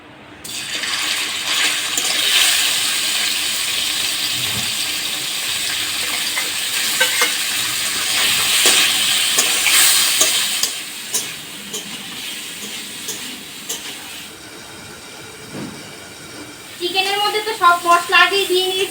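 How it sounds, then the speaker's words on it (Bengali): Steady loud sizzling of chicken frying in hot oil in a wok over a clay stove, with stirring and scraping in the pan, a short burst of clatter near the end. "এখন কড়াইতে তেল দিয়ে চিকেনটা ভেজে নেব"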